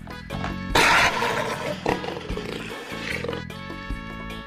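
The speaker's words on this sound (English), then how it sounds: "Jaguar." A jaguar gives a loud, raspy roar that opens with a sudden burst and rolls on for several seconds, with soft background music running underneath.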